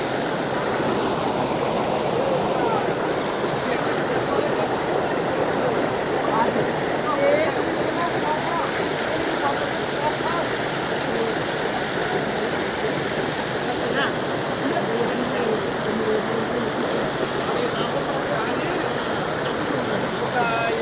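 Seethapalli stream near Maredumilli flows with a steady, unbroken rush of water that fills the whole scene at an even, moderately loud level from start to finish.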